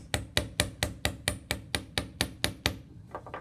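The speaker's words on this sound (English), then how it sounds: "I'm going to hammer it on the bottom piece" A hammer strikes the bottom piece of a wire rivet in a run of about twelve sharp, evenly paced metallic blows, close and clear, fading into a few softer knocks at the end.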